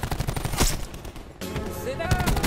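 Bursts of automatic gunfire from a Call of Duty team deathmatch on the Madagascar map, rapid sharp shots in two clusters separated by a short lull, fairly close and loud.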